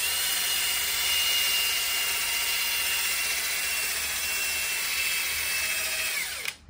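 A power drill used as a polisher on a painted 3D print whines steadily at high speed with a bright, buzzing tone, then winds down abruptly at the end.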